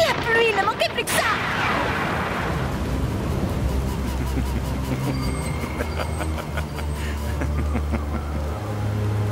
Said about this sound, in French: La pluie, ne manquait plus que ça!